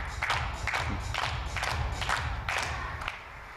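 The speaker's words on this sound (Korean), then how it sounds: "네 박수 열심히" Audience applause rises in a billiards hall during a professional team league three-cushion match, with steady, dense clapping that holds level throughout with no voices over it.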